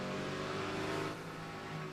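GT race cars running in traffic during the 2009 Rolex 24 at Daytona endurance race, a steady loud engine drone with harmonic whine, slightly easing after the first second, no voices.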